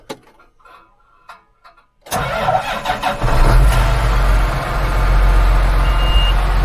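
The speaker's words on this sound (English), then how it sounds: "It's called a tractor 8130. It's going to start" A John Deere 8130 tractor that has been throwing codes cranks after a few faint clicks and catches quickly. Its engine then settles into a loud, steady idle with a warning beep sounding.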